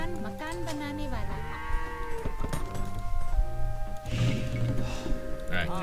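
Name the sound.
sheep bleating in Age of Empires II video game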